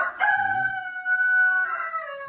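A rooster crows once, loud and close, with a long sustained call in a chicken coop, and faint clucking from the hens beneath it.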